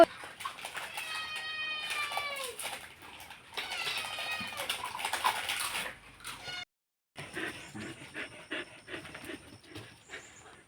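A cat lets out long, drawn-out meows and yowls up close, mixed with panting and whimpering from a dog, then a brief silence and scuffling.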